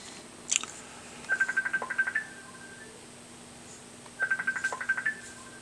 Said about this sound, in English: I have a phone going off.